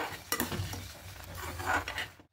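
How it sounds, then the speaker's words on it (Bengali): A spoon stirs a pot of mung dal with radish as it simmers, making scraping and clinking against the pot over a soft bubbling sizzle, ending abruptly. "এবার সবটা মিশিয়ে নিয়ে আরেকটু ফুটিয়ে নেব"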